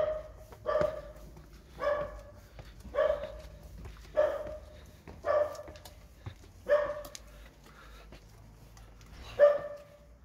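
A dog barks outdoors in a yard, about nine evenly spaced single barks at a steady rhythm, moderately close and clear over a quiet background.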